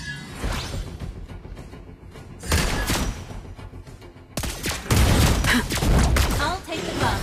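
Rapid gunfire from the character Lesley in a team video game, with a run of sharp, close shots and whooshing impacts that grow denser and louder toward the end, while a voice talks over the action.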